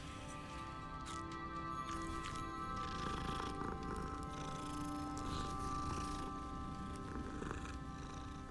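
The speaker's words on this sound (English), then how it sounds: "And another cat." Continuous steady purring from a cat in the video game Hogwarts Legacy, close and even throughout, with faint game ambience and brief soft taps.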